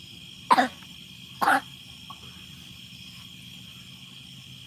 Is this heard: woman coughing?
yes